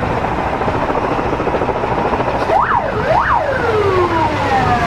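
Emergency sirens wail in rising and falling sweeps over a dense, rumbling roar of helicopters above a burning concert hall in Moscow, loud and close.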